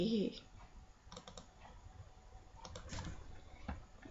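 Computer keyboard typing during a protel 99 SE software tutorial, soft scattered key clicks in short bursts, quiet and close, with a brief murmur of voice at the start.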